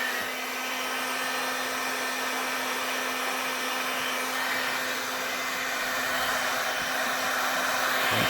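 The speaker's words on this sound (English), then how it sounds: "So what I'll do, get your heat gun going." A heat gun blows hot air to soften Kydex for a holster, a steady, loud, close whoosh with a constant motor whine that runs unbroken for the whole stretch, no talk.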